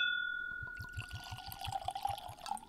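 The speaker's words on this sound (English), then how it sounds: "Will you pour that in a glass for me?" Ardbeg Uigeadail whisky poured into a glass, a gurgling liquid stream running for about two seconds after a brief tone, close and fairly quiet with no talk.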